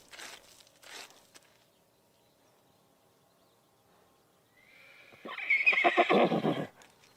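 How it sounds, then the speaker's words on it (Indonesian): A horse gives a loud, drawn-out whinny near the end, preceded by a few soft hoof clops and quiet pauses, heard close with no speech. "Kuda itu memang ada"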